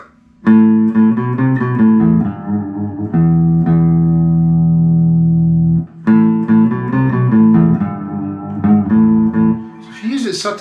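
Electric guitar played through a Boss PS-5 Super Shifter pitch shifter pedal with a small amount of wet signal blended in, giving sustained, slightly thickened notes and chords that ring out in close, loud phrases.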